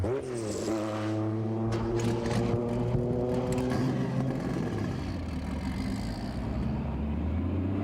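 A Porsche 935 race car engine rising in pitch as it revs and accelerates, then settling into a strong steady drone, close and loud with no speech over it.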